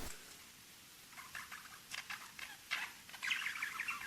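Parrots at Parrot Jungle Island give faint, scattered chirps and squeaks over a soft, noisy background, growing a little busier toward the end.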